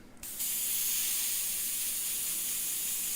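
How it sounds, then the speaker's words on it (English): A garden sprayer bursts back into a steady, close hissing spray after a blockage clears, starting with a brief sputter and then holding a continuous loud jet. "It just spat it out and it sprayed again"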